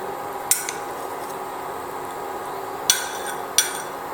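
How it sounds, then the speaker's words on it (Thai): Peeled boiled eggs are dropped into a pot of Thai pork belly stew, making three sharp clinks against the pot, one early and two close together near the end, over a quiet steady background. "ใส่ไข่ต้มที่เราปอกเสร็จเรียบร้อยแล้วลงไปนะคะ"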